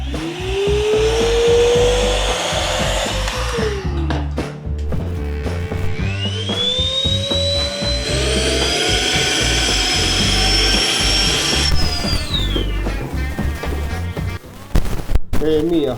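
Two cordless vacuum cleaners, a STIHL SEA 20 and a Dnipro-M DVA 200BC, whine loudly up close, their motor pitch rising and falling as they start, run and spin down, with a clatter near the end.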